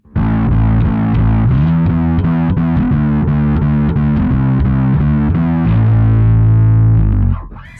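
A Sterling by Music Man DarkRay bass guitar played through distortion, a loud, close, buzzy riff of rhythmic repeated notes ending on a sustained note that fades out.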